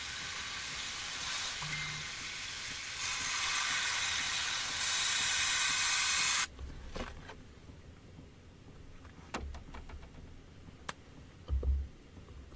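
An Iwata airbrush sprays white water-based paint onto an RC car body shell, a steady loud hiss for several seconds that then cuts off abruptly, leaving faint quiet handling clicks and low bumps.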